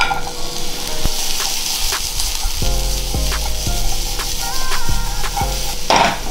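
Capsicum (bell pepper) sizzling and frying in a home kitchen pan for a homemade pizza topping, with a steady close hiss and several stirring scrapes and clinks of a utensil against the pan.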